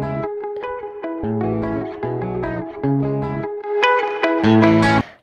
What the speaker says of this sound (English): that is the muffle effect down